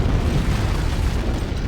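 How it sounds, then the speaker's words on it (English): An antimatter charge goes off aboard the starship Pillar of Autumn in Halo: Combat Evolved, a loud, sustained low rumbling boom that fills the whole short stretch without letting up. "I'd guess an antimatter charge."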